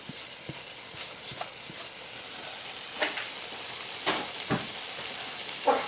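Paneer curry with chopped coriander sizzles softly in a pan while a spoon stirs it, with scattered scraping clicks and taps over a steady frying hiss, no talking.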